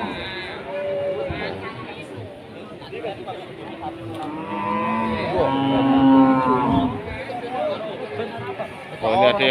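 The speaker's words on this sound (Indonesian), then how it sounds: "Ada sapi pegon, teman-teman." Cattle, including Pegon and Limousin breeds, moo loudly at the Pasar Wage livestock market in Pati, with long lowing calls rising over a steady crowd chatter and nearby voices talking.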